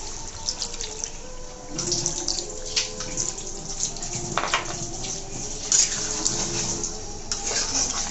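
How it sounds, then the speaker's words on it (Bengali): About half a mug of water is poured into a cooking pot of beef korma, a steady splashing pour with trickles and drips, close and alone. "আমি 1/2 মগ পরিমাণ পানি দিয়ে দেবো।"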